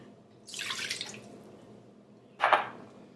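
Water poured from a cup into a pot on the stove as the first step of a strawberry pie filling, heard as two short splashing pours, the second briefer and louder, close by in a quiet kitchen.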